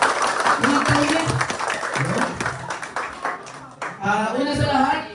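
A crowd claps steadily at a fifth-anniversary celebration for Ras PH, the applause filling the room while voices talk loudly over it throughout.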